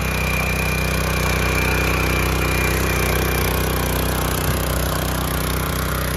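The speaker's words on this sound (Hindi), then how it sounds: "किसी बड़े ट्रैक्टर से जुताई करने की जरूरत नहीं है, इसी से जोत के दिखाऊंगा भाई साहब।" A small, inexpensive tiller runs in second gear, ploughing hard, compact field soil: a loud, unbroken engine drone with a rough, rattling texture that holds steady throughout and sounds close by.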